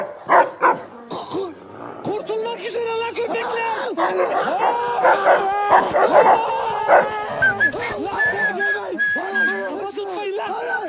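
Several dogs bark, yip and whimper close by in quick, overlapping bursts, with some whistle-like whines, continuing throughout.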